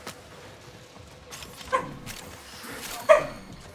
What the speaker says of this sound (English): I don't want to hear you barking your ass off all night long.